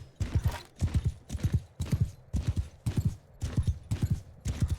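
Horse hooves galloping in the Mount and Blade Bannerlord video game: rapid, evenly repeating clusters of heavy clip-clop beats, loud and close, running steadily with no voices.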